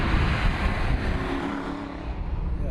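Aston Martin V8 Vantage, a sports car about fifteen years old, with its V8 engine droning loud and steady from inside the cabin as the driver heel-and-toes down into second gear.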